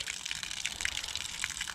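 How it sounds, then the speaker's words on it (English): Collected rainwater is poured out in a faint, steady gushing stream that continues without a break, with no voices. "Why are you wasting the water?"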